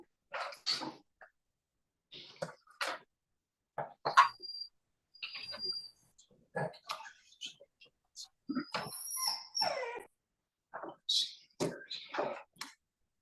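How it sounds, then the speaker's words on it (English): A puppy in the background gives short, faint, scattered yelps and barks while people talk intermittently on a remote hearing call. "Sorry, I have a puppy in the back."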